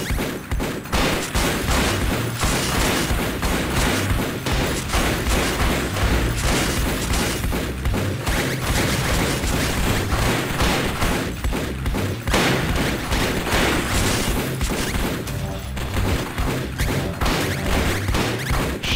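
Enemy gunfire in the arcade shooter Circuit Breakers, a constant dense barrage of rapid shots and booms running without pause for nearly twenty seconds, loud and close.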